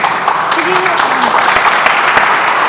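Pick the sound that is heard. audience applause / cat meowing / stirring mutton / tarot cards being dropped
audience applause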